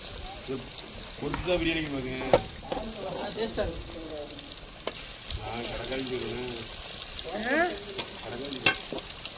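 Steady crackling sizzle of fish frying in hot oil, continuous throughout, with people talking over it and occasional sharp clinks.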